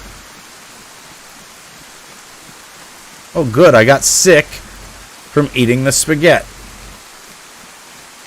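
Steady soft rain hiss in the DayZ game world fills the whole stretch, a continuous even wash that carries under two short bursts of someone talking.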